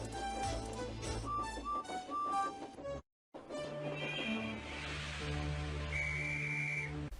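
A steam engine's whistle sounds in two bursts: an earlier series of short pipes under a rhythmic chuffing, then after a brief silent gap a long, sustained, clear whistle over hissing steam and train rumble.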